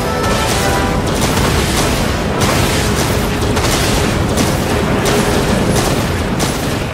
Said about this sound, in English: Auto guns fired up